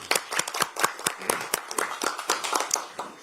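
Applause at a political party recruitment ceremony at the National Assembly, with distinct individual claps standing out sharply over a thinner crowd clapping, fairly close and uneven.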